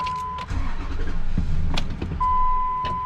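Pickup truck engine cranking but failing to catch, a close rumbling starter churn running steadily through most of the moment with a couple of sharp clicks and a thin tone coming and going.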